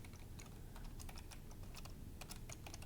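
Typing on a computer keyboard, a quick irregular run of close, crisp key clicks over a low steady room hum, with no talking.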